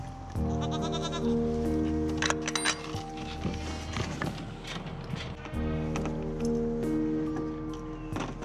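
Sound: goat bleating

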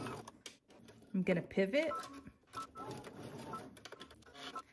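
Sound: sewing machine stitching a seam

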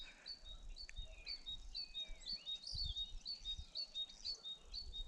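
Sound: starlings singing in spring

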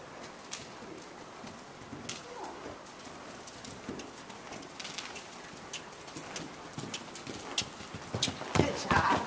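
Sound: gaited horse cantering over jump boxes

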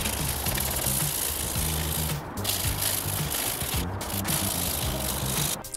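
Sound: sanding bumps off a 3D-printed piece

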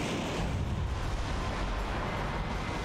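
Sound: missile explosions in video game Metal Wolf Chaos XD

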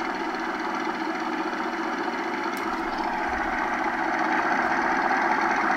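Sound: off-road vehicle engine idling in a driving video game

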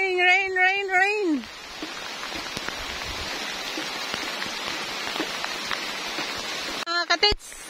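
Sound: rain falling in a forest

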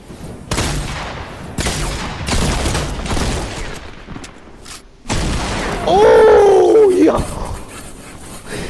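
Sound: heavy pump shotgun kill in Fortnite video game

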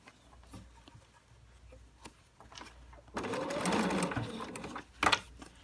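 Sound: sewing machine stitching fabric binding

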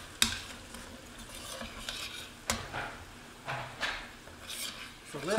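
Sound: stirring black pepper into carbonara sauce in a pan

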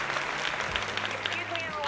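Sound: applause

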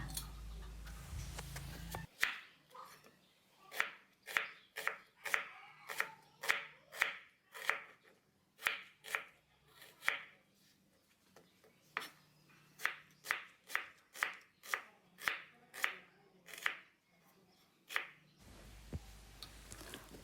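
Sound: knife chopping onion on cutting board

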